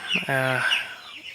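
Six-day-old broiler chicks in a poultry shed give a brief burst of high chirps, with a lower clucking call in the middle, all close and fairly loud over about a second.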